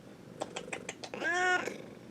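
A cat meows once, a drawn-out tonal cry rising and falling after a run of quick soft clicks like typing, heard close and fairly quiet with no talking.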